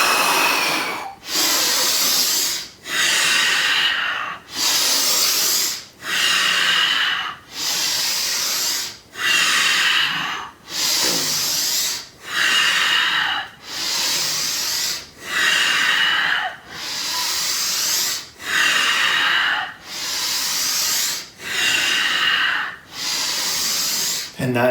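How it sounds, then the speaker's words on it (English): Tummo warrior breathing, a rhythmic series of about fourteen strong, hissing breaths drawn and pushed through the nose, each burst separated by a brief pause, close and loud with no talk. "the first exhale is out the mouth, the rest of the breathing is through the nose"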